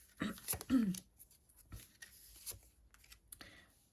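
Tarot cards riffled and snapped in a few quick bursts, followed by softer shuffling and light taps, close by with no talking.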